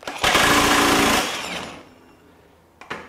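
A Durofix 60V brushless 1-inch impact wrench at its 2000 ft-lbs setting hammers in one loud, harsh burst of about a second, then its whir winds down, followed by a short knock.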